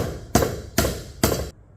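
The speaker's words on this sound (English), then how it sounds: "the first few blows are just going to be with a dead blade hammer" A dead blow hammer strikes a tight-fitting motorcycle handlebar pipe three times at an even pace, each blow a loud, close, dull thud with a short ringing tail.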